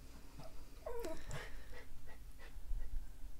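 Close, soft dog panting with quick breathy huffs and a brief whimper, in a quiet room.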